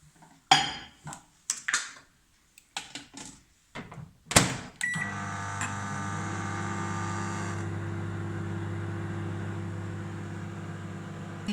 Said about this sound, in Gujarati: આપણે એને પાછી 3 મિનિટ માટે માઇક્રોવેવમાં મૂકશું.